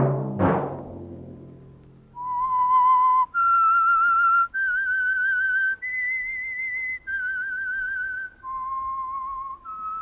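Whistled theme signal of the radio show The Whistler: a lone clear melodic whistle of about eight sustained notes stepping up and down, loud and close after a brief knock, with no talk.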